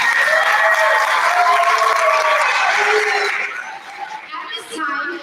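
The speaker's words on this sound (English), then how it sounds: "Big round of applause." A room full of people at a school Thanksgiving luncheon claps steadily, the applause loud and sustained before tapering off, with scattered chatter and a voice emerging near the end.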